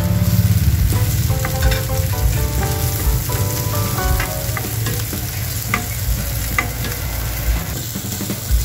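Garlic followed by onion sautéing in oil for lechon kare-kare, a loud, continuous close sizzle broken by repeated clinks and scrapes from a stirring utensil against the pan.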